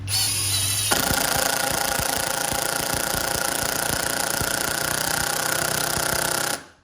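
A SKIL PWRCore 20 impact driver on its low setting drives a fastener in one continuous, loud burst of rapid hammering impacts lasting about six seconds, then cuts off.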